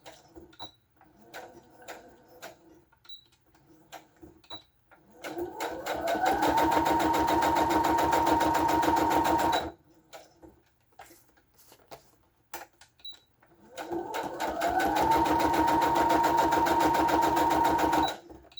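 A sewing machine stitches a paper quilt block card in two sustained bursts of rapid mechanical whirring, each about four seconds long, separated by quieter pauses with faint ticks.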